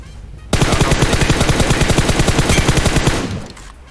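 Sustained automatic gunfire in PUBG Mobile, a rapid even burst of close, loud shots lasting about two and a half seconds before cutting off.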